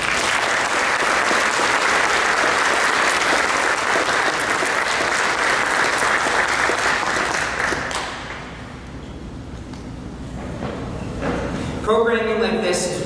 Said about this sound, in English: Please join me in another round of applause for their incredible work